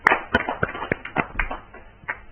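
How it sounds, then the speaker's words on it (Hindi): Scattered claps from an audience at a Hindi poets' gathering, welcoming a poet onto the stage: a handful of separate, uneven hand claps spread over a couple of seconds, fairly close and not building into full applause. "जोरदार ताली के साथ हम स्वागत"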